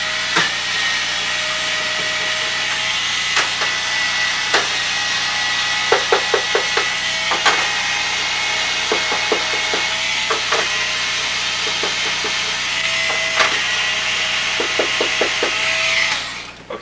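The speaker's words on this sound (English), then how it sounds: "it's a small cordless screwdriver that makes taking it apart a lot easier" A small cordless screwdriver whirs steadily while backing screws out of a Sega Genesis console, its motor hum running throughout with clusters of short sharp clicks and ticks as the bit slips and catches the screws.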